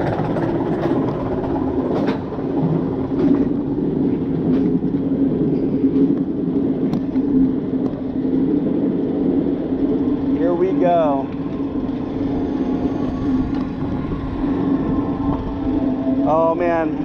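The Superman B&M flying roller coaster at Six Flags Over Georgia rumbles and clatters steadily along its track, with a continuous mechanical drone, chain-like clicking and brief squealing sweeps near the end.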